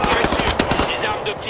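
Rapid automatic gunfire from Wolfenstein: The New Order, a dense burst of close, loud shots in quick rhythm, tailing into softer game effects.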